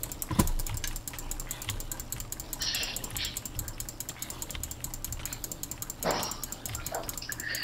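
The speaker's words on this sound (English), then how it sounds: "Rapid fire click!" Fast mouse clicking while playing Minecraft, with quick, light, close clicks tapping steadily over soft background game noise, and a couple of louder bursts.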